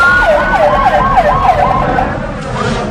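An ambulance siren wails in a rapid rising-and-falling yelp, loud and close on a city street in the Bronx, with traffic rumble underneath and no talking.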